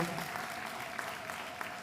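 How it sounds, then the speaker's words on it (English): An audience applauds the winning team at a public sector debate competition grand finale, a brief burst of steady clapping heard at a distance. "Give them a big round of applause and congratulate them"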